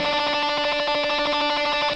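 Guitar tremolo picking a single note over and over in an exercise, a fast, steady, even stream of loud repeated attacks with a bright, sustained tone and no talking.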